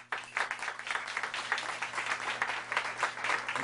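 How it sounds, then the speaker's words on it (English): Audience applause at an awards ceremony, a steady wash of many hands clapping that starts abruptly and holds at a fairly even level throughout. "So, give her a round of applause."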